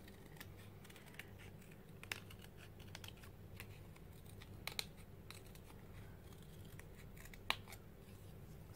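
Scissors cut a circle out of paper for a journal cover, giving quiet, scattered snips and faint paper rustling close by in an otherwise hushed room.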